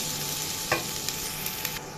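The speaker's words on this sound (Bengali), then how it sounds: "আমার সরষের তেল গরম হয়ে গেছে, এখন আমি পেঁয়াজ দিয়ে দিব।" Onions frying in hot mustard oil, a steady close hiss of sizzling with a few light spatula taps and one brief louder burst, no voices.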